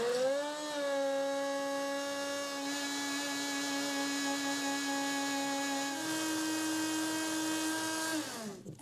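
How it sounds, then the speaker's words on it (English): An immersion blender running steadily in a beaker of body butter, a smooth whining motor hum that holds one pitch, steps slightly higher partway through, then winds down at the end. "Going in with the immersion blender, making sure it is down on the base of the beaker and giving it 30 seconds."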